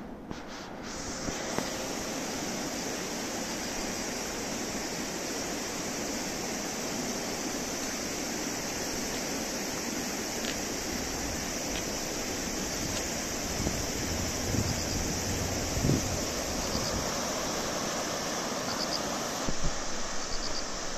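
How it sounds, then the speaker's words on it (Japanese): A steady, broad roar of the flooded Nakatsu River fills the whole stretch, constant and dense, heard from nearby on a bridge, with wind buffeting the microphone. "聞こえてくる川の轟音、お聞きいただけますでしょうか。"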